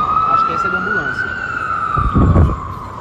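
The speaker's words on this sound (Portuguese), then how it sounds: "É como se essa sirene aí já fizesse parte da sonorização da cidade. Às vezes é de polícia, às vezes é de ambulância" Ambulance siren on a New York City street, a loud, sustained wailing tone sweeping slowly up and down, with city traffic rumble beneath and a brief burst of voices partway through.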